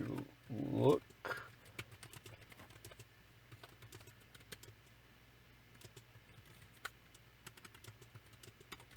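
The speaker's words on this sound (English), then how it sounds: "I'm just trying to concentrate on typing" Computer keyboard keys tapped in a steady, quiet stream of light clicks after a brief burst of louder sound at the start, close by in a still room.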